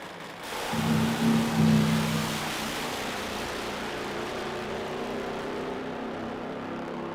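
Top Fuel drag bike engines at the AMRA Ohio Nitro Nationals, a loud droning roar swelling early then holding as a steady, distant-sounding rumble with no talk.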